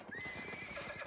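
Horse riding in a German-language crafting video game: steady rhythmic clip-clop of hooves with a neigh or whinny over it, loud, close and continuous, no talking.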